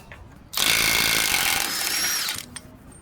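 A power tool on a wobble adapter spins off a 36mm axle nut on a Mercedes ML350 front end, making a loud, steady whir of about two seconds that starts abruptly and winds down, with no talking.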